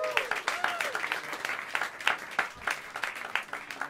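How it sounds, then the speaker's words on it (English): Audience applause and clapping fill a small jazz club after a drummer is introduced during a live quartet set, with dense, lively claps throughout and brief cheers mixed in. "Give him a round of applause."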